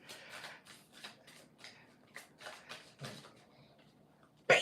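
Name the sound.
shuffling a deck of cards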